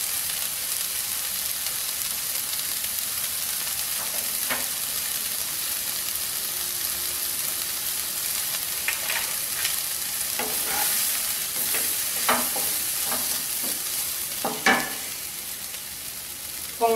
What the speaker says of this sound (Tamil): இப்போ நம்ம இதில் இட்லியை சேர்க்க போகிறோம்